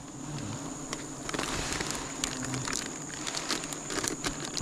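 Honey bees buzzing around a small hive during a honey harvest, a steady close drone layered with crinkling, tapping handling sounds and no talking.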